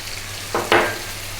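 Chopped tomato tipped into hot oil in a pan for an egg potato curry, a sudden close sizzling burst that flares briefly and fades over a low hum, no voices.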